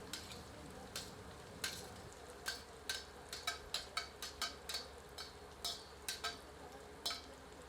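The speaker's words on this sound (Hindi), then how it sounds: "करछी जलाकर सबको अच्छी तरह मिला देते हैं।" A ladle stirs crushed garlic, ginger and fiddlehead fern in a pan, producing a quiet, even sizzle broken by a string of light metallic scrapes and taps, about a dozen in quick irregular succession.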